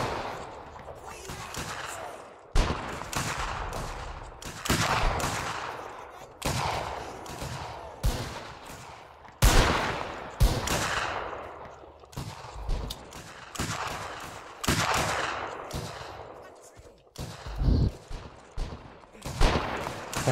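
Repeated musket volleys crack out in a Mount & Blade Warband battle set in the Anglo-Zulu War, loud bursts of gunfire arriving in irregular clusters across the scene, with a voice calling orders between the shots.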